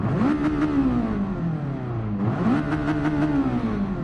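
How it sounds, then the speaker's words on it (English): A simulated race car engine revs hard at full throttle, its pitch climbing, dipping briefly near the middle and climbing again, loud and steady throughout with no voices. "when I press the throttle"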